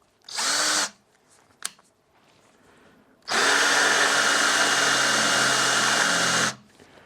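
A power drill drilling into a car's shock mount runs in two bursts: a short whir of under a second, then after a pause a loud steady drilling lasting about three seconds.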